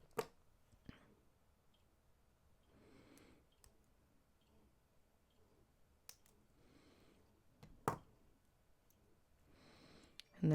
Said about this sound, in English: I'm just going to snip off this tail